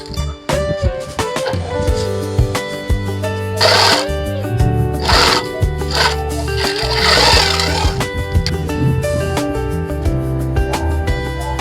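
Sewing machine stitching a backpack lining, a rapid mechanical whirring chatter in bursts of stitching with brief pauses and handling noises between runs, close and clear with no talking.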